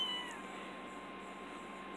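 Five-week-old kittens meow in the background, shut in a pen, making faint, repeated high-pitched cries with no one speaking.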